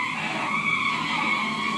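A motorbike accident sound effect for a stage skit: a sustained, loud screech of skidding tyres holds steady for the whole moment, with no voices.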